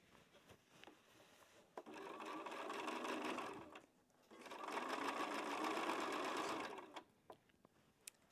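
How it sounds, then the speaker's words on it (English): A sewing machine stitches a quilt block in two steady runs of a few seconds each, separated by a short pause and framed by quiet clicks and handling noises. "Now I'm going to sew this next one here."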